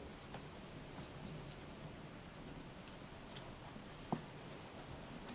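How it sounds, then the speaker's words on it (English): Quiet, continuous rubbing of an eraser over pencil marks on paper, soft scratchy strokes repeating throughout, with one small tap near the end and no voices. "Now what I'm gonna do is I'm gonna erase all my pencil marks."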